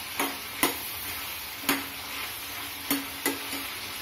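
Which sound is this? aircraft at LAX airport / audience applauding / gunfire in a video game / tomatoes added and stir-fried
tomatoes added and stir-fried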